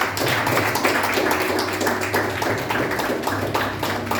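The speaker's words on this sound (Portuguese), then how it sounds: "Aplauda o Senhor Jesus." Dense, continuous applause from a church congregation, many hands clapping together in a sustained patter without pause.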